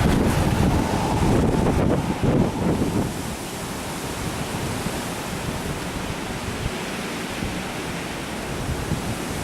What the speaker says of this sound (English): Jeez, it's very windy out.